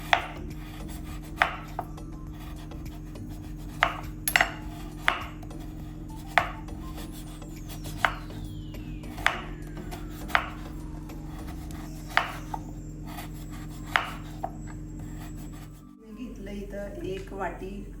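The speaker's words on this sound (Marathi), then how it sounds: "तर अशा प्रकारे मी गूळ चिरून घेते" Jaggery being chopped with a knife on a board: sharp, distinct cuts land roughly once a second, fairly close, over a low background hum.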